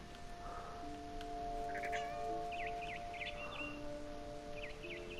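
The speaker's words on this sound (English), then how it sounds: "Sounds like the bird's getting pissed." An angry mother bird calls in the video game What Remains of Edith Finch, a series of sharp squawks and warbling chirps, moderately near, over faint ambient game tones and background hum.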